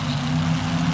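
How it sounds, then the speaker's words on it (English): Frank Hawley's supercharged, methanol-burning 500 cubic inch Keith Black racing engine in a funny car at the 1977 NHRA Springnationals, a steady, loud, low droning roar. "The funny car of Frank Hawley, powered by a 500 cubic inch engine, also supercharged, also burning methanol."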